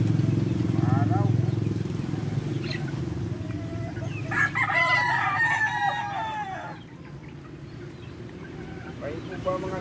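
Chickens and a rooster in a rural yard in Pangasinan, Philippines, with clucking and a clear crow in the middle, heard under steady background rumble and someone speaking.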